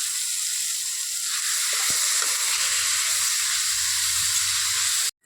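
Gobindobhog rice tipped into hot oil gives a steady, even sizzle and hiss that runs for several seconds, close and fairly loud, with faint stirring clatter underneath and no one speaking.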